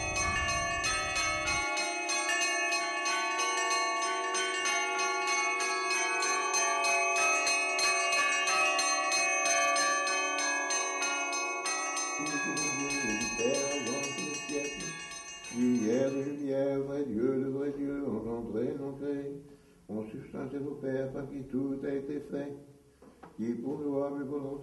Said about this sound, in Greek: Η μελωδία της καμπάνας κυριεύει το ήσυχο τοπίο.